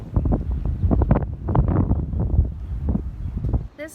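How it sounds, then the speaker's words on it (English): Wind buffets a microphone outdoors in steady low gusts, with a person speaking intermittently underneath. "It's more windy than when I was doing the Pat McGrath foundation check-in."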